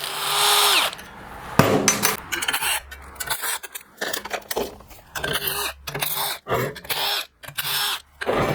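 An impact wrench fitted with a 1/2 inch socket works bolts loose during a teardown of a blown Briggs & Stratton engine, firing in short loud bursts with gaps, clatter and a cough in between.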